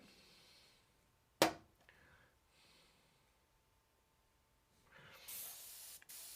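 A brief, soft airbrush mist of paint laying down a core highlight, heard as a quiet breathy hiss with a sharper burst near the start and a longer faint spray toward the end.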